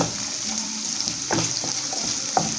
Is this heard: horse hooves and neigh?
no